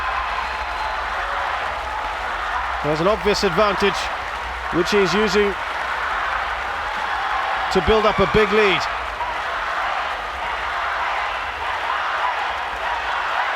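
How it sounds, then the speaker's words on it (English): A crowd cheers and applauds in bursts at a para games swimming race in an indoor pool arena, swelling under steady commentary from an announcer. "Listen to that crowd."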